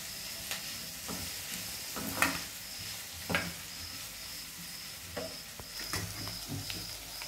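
Crumbled paneer and onions fry quietly in a pan for paneer bhurji, a low sizzle broken by scattered scrapes and taps of a spoon stirring the mixture.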